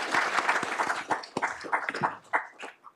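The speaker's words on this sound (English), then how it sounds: "So how about a round of applause for John, please?" An audience at a nutrition and cancer talk claps steadily for three seconds. The applause is moderately loud, with distinct individual claps standing out in an even ripple, and no talk over it.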